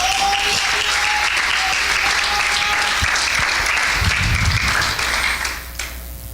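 Loud, sustained applause from a church congregation fills the space for several seconds, steady and dense before tapering slightly at the end, with a faint tone lingering underneath.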